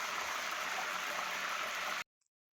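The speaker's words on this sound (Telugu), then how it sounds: "అదే ఆయిల్లోకి కరివేపాకు వేసుకొని వేయించుకోవాలి" Curry leaves sizzle and crackle as they fry in hot oil for bitter gourd spice powder, a dense steady hiss that cuts off abruptly after two seconds.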